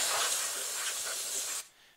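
Compressed air blasts steadily from a nozzle to clear grinding debris out of a 6-volt bell housing, a loud continuous hiss that cuts off abruptly near the end.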